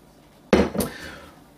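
A KitchenAid mixer whisk attachment being handled and removed, giving one sharp metallic clunk followed by a lighter clink and a brief ringing decay, close and alone.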